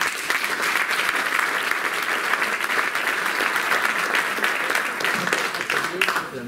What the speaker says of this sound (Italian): Fatemi un applauso perché ve lo meritate davvero.